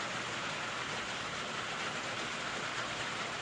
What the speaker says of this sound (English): Raining today. And we have a metal tin roof.